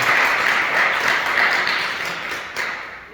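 A church congregation claps together during a service, a dense, loud wash of applause that starts full and gradually fades toward the end, with no clear speech over it.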